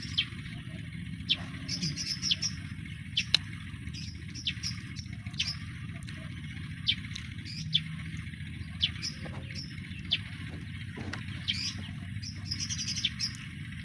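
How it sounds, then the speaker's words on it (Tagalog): Birds chirp and sing repeatedly in short bursts over a steady low outdoor hum. "Ang ingay yung ibon. Laging maingay. Parang kumakanta."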